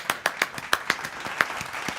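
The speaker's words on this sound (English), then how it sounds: "let's welcome Miss Scarlett with a big round of applause" A small audience at a student presentation welcomes a speaker with sparse clapping, about a dozen distinct, irregular claps from a few people, fairly close and with quiet gaps between them.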